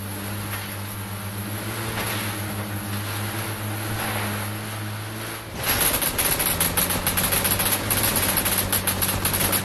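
Rapid gunfire in a video game bursts in halfway through over a steady mechanical engine drone, the shots coming as a fast, even string of sharp cracks that continues to the end.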